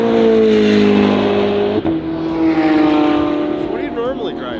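A Lamborghini Huracán Performante supercar is driven hard on a race track, its loud engine droning steadily with a brief shift dip and revving near the end, while voices talk over it.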